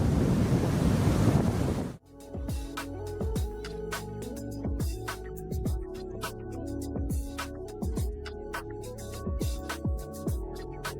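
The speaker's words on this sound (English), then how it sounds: "A powerful storm strikes the California coast with strong winds and heavy waves." A powerful storm on the California coast brings a loud, dense roar of heavy waves and strong wind for about two seconds, then it cuts off and music takes over.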